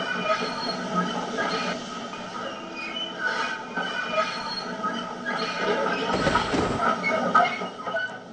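Mountain train in Peru zigzagging down a steep slope by switchbacks, heard from inside a carriage as a steady rumble of wheels on rail, with a brief loud wheel squeal near the end.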